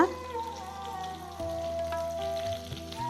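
Dried red chillies, broken by hand, fry in hot oil for a pepper chicken gravy, giving a steady close sizzle and crackle with a faint tonal hum underneath and no voices.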